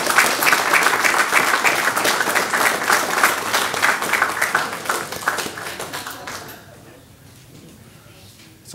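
Audience at a school board of trustees meeting claps a group out of the room, a loud burst of applause that thins and fades into quiet after several seconds.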